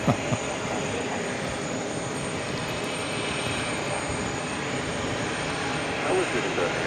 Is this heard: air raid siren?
no